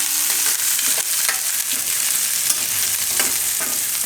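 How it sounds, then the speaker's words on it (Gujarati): Gram flour is stirred into hot oil in a pan while cooking a Gujarati besan capsicum shaak, giving a steady close sizzle and fry with soft scraping stir strokes throughout. "આમ આપણે નાખી દેવું આ ચણાનો લોટ આ રીતે થોડો થોડો નાખતું જવાનું મિક્સ કરતું જવાનું"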